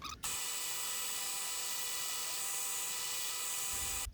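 A power sander grinds away at a wooden lipless crankbait body, a continuous buzzing whine held at a steady pitch for several seconds, starting and stopping abruptly, fairly quiet and with no talking.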